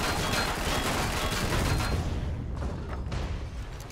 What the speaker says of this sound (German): Was ist hier kaputt geschossen?